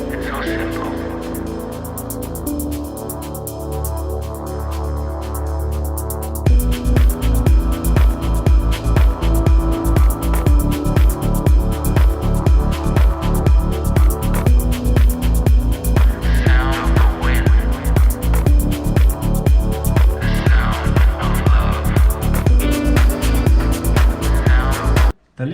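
Indian Scout motorcycle engine running on a Linkert M-741 carburetor, loud and close, a fast steady throbbing beat that kicks in after a quieter opening stretch and runs on until cut off abruptly.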